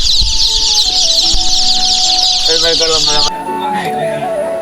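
Native chicken chicks, twelve hundred of them, packed in baskets inside a CNG auto-rickshaw keep up a loud, dense chorus of shrill peeping that drops slightly in the last second, with a voice talking underneath.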